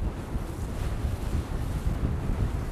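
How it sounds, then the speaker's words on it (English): Continuous gusting wind roars and buffets the microphone outdoors on the Columbia River, a low rumbling rush that swells and eases slightly without pause. "it's a little bit windy out here"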